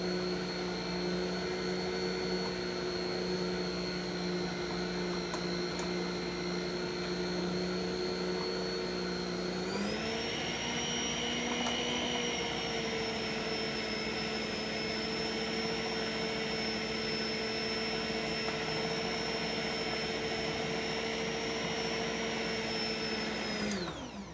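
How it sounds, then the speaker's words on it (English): An electric mixer beats brownie batter with a steady, loud whirring motor drone that shifts pitch upward partway through as the speed changes, running continuously with no talking. "We're going to turn the mixer back on and mix that well."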